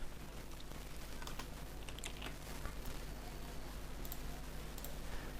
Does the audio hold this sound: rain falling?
no